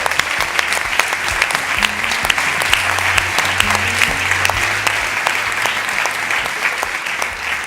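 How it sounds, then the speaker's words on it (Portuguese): An audience at a ThinkTank conference event gives a sustained round of loud, dense clapping that carries evenly throughout without a break. "Um salve de palmas para a Kátia"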